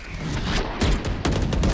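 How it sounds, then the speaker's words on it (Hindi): Gunfire in the shooter game Valorant: loud, dense rapid shots and booming impacts packed together without a break, a continuous barrage across the short stretch. "भाई तेरा भाई क्या शॉट्स मार रहा है टपा टप टपा टप करके दे रहा है"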